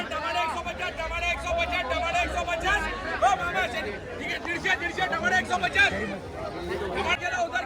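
Busy crowd chatter and overlapping voices fill an open vegetable market in Jalna where buyers gather around a pile of brinjal, a steady dense babble with occasional louder calls.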